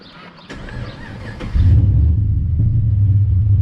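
Turbocharged HSV VF Maloo ute with a heavily worked LS3 6.2-litre V8 cranking and firing up, then settling into a loud, deep, rumbling idle heard up close with the door open.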